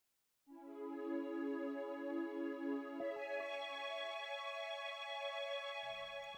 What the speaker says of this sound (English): This is classic synth pad.